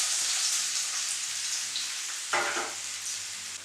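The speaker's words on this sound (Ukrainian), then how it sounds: "На гарячу сковорідку викладаю шматочок масла, викладаю яблука." Steady sizzling of apples frying in butter in a hot pan, with a brief louder crackle partway through as more goes in.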